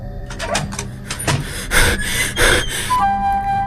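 A frightened man panting hard at a doorway late at night, several loud, ragged breaths and gasps in quick succession, close and with no speech.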